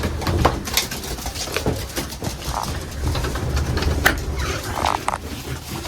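Male racing pigeons in a clean breeding loft, giving repeated close coos and throaty calls mixed with scattered clacks and rustling of birds moving in their cages.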